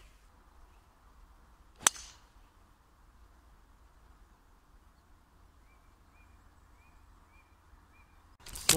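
A golf drive on a course at Donnery, the club striking the ball once in a single sharp crack early on, then a quiet outdoor hush with faint birdsong.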